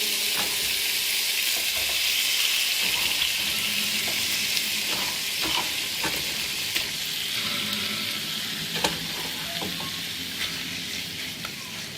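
Dry shrimp drop into a hot pan and sizzle loudly and steadily, close up, with scattered light taps and stirring clicks throughout, and no talk.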